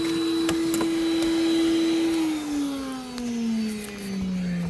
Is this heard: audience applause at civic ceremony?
no